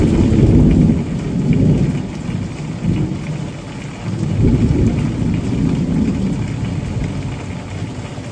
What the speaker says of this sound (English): a summer storm was rolling in